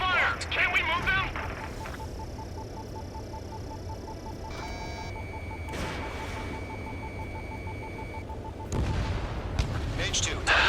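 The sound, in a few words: anti-aircraft gunfire in the video game Ace Combat 7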